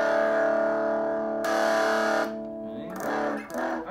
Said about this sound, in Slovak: Keď si dáme všetko na tej gitare na max, tak ten zvuk je napriek tomu, že je na čistom kanále, tak je skreslený.